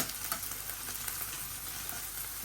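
Onions fry in a hot pan for a small-fish curry, a steady, close sizzle with soft crackling and occasional stirring, no voices.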